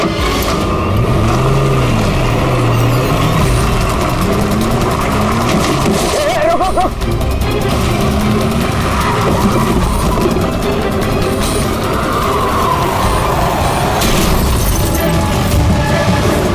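A car reverses and speeds off from a police checkpoint, its engine roaring with tire squeals, scraping and crashes, all under loud background score and shouted voices.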